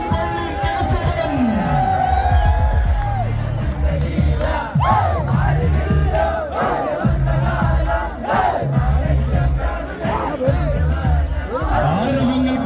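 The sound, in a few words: crowd cheering at an elephant procession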